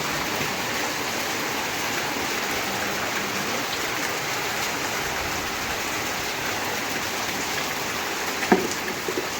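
Steady downpour in a stormy home courtyard, rain drumming on surfaces in a thick continuous hiss, near and loud, with a brief knock near the end and no one talking.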